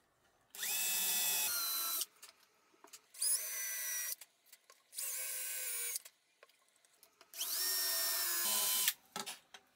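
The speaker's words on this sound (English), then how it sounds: "I drill some guide holes." A power drill bores guide holes in a laser-cut wooden lamp base, four loud whining bursts of one to two seconds each, separated by short pauses, close up with no talking.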